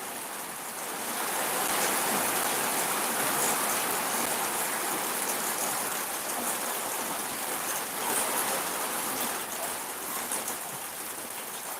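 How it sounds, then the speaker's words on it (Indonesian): Steady rain falls in Sunggu Minasa, Gowa Regency, South Sulawesi, a continuous even hiss that stays moderately loud throughout with no voices. "Ini memang di sini sejak Desember hampir tiap hari hujan"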